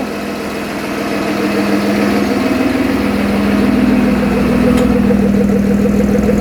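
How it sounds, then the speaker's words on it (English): A Toyota T18 drift car with a BMW M50B20 engine and a freshly built exhaust idles loudly and close by, with a steady burbling pulse and a slight rise in revs. "the exhaust is all done, and it is time to start the car to see what it sounds like."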